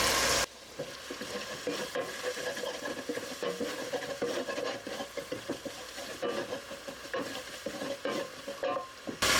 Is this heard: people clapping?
no